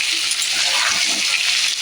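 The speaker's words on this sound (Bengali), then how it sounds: "আর এগুলোকে আমি ভালো করে ভেজে নেব" Potatoes coated in turmeric and Kashmiri red chili powder fry in hot oil for a mutton curry, giving a steady, close, dense sizzle with faint stirring underneath and no talk.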